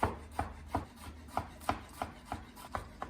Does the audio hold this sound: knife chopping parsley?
yes